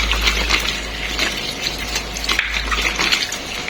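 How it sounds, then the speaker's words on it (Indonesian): Small ginger roots being washed clean under running water, likely in a home kitchen while making jamu, a steady close splashing and gushing stream that runs without pause. "Ini dicuci sampai bersih."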